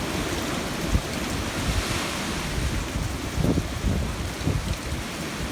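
Strong wind roars across an open farm near a barn, gusting and buffeting the microphone in a constant, heavy rush with occasional louder bursts. No speech is heard.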